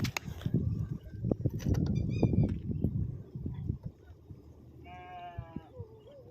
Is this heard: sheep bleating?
yes